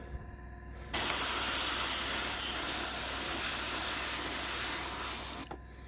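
Steady airbrush spray hiss of paint thinned with tap water, starting abruptly and running evenly for several seconds before cutting off, close and fairly loud.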